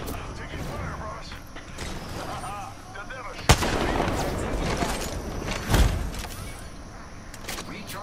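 Video game gunfire cracks repeatedly, with two sharp, loud shots standing out amid continuous battle clatter and mechanical noise, while a player talks over the action.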